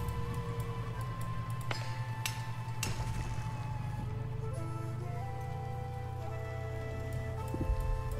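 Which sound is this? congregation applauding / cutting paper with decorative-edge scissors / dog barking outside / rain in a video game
rain in a video game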